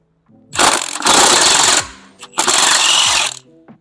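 An impact or ratchet tool works the last turbo nut loose on a Cummins ISB 6.7 engine during a cylinder head replacement, with two loud, close, sustained bursts of mechanical rattling separated by a short pause.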